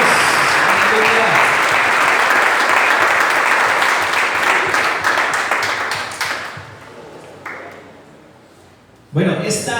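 Church congregation applauding the Lord, a dense, loud wash of clapping that thins and fades toward the end before a short burst returns, with voices mixed in.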